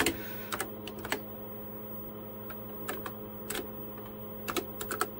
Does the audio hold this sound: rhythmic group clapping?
no